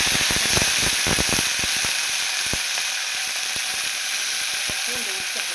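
Curry leaves and coriander hit hot oil already popping with mustard, fenugreek and fennel seeds for a fish curry, giving a loud, bright, steady sizzle with rapid crackles that thin out after the first couple of seconds.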